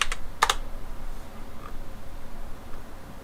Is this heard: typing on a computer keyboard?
yes